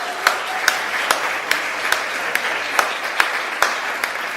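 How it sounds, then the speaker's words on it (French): An audience applauds at a cultural event, sparse, distinct hand claps keeping a fairly even rhythm over a soft background murmur. "Un petit tonnerre d'applaudissements, s'il vous plaît"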